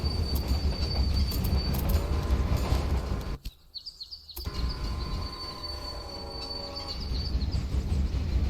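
Trains roll along rails in Railway Empire, a loud continuous rumble with high wheel squeal, briefly cut by a sharp gap of quiet before the clatter resumes.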